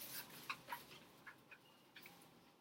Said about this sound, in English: I forgot about this dog here.